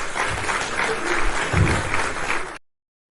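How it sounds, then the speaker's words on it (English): Steady clapping from a small group fills the whole stretch at even volume, a dense patter of hand claps with no voices over it, then cuts off abruptly near the end. "I got to clap it up."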